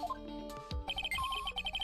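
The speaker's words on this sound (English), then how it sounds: "That's the sound of the metal detector." Electronic tones chirp and warble from a metal detector in a video game, a busy cluster of short beeps and pitched blips over a low hum, with game music or effects mixed underneath.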